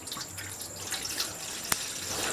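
Water poured into a pot of Bihari-style mutton curry, a steady splashing rush with a brief sharp clink partway through, close and continuous over a short stretch.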